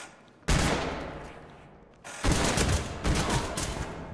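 Ready or Not gunshots, a loud blast with a long ringing decay, followed by two more sharp shots in quick succession, close and heavy.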